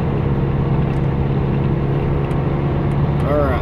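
Engine of a 5-speed truck running while driving, a steady low drone with a sustained hum, ending in a rising whine as it is shifted.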